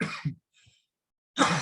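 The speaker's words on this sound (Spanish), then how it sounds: "Ya me agarró la tos." A person coughs a couple of short times, with a brief faint throat sound in between and more coughing close up after a pause.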